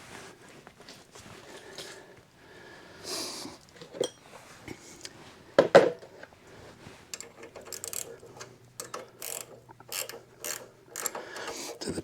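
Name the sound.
tightening 1951 Harley Panhead rear wheel with ratchet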